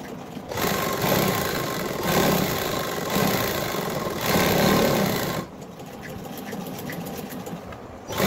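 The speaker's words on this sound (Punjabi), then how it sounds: "ਜਿੱਥੇ ਲੈਣ ਪੂਰੀ ਸਿਲਾਈ ਲਗਾ ਲੈਣੀ।" A sewing machine stitches the seam of a pleated kurti in steady runs, a continuous close mechanical whirr that pauses briefly between bursts and drops quieter for the last few seconds.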